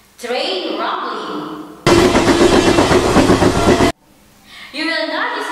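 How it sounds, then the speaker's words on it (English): A train rumbles past close by, a dense, loud roar with rhythmic clickety-clack of wheels on rails lasting about two seconds, then stops abruptly. A voice speaks before and after it. "train rumbling."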